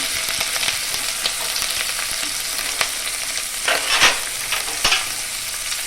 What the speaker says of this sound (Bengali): এগুলোকে আমি হালকা করে ভালো করে নাড়াচাড়া করে একটু ভেজে নিলাম